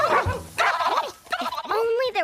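Cartoon dogs that have run out of control during a dog wash bark and yip excitedly, close and loud, mixed with character voices talking over them.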